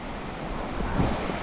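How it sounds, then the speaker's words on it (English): Steady rushing water roars at the base of a waterfall in the San Bernardino Mountains, a broad continuous wash with some wind buffeting the microphone. "We're gonna try this, the base of this waterfall right here."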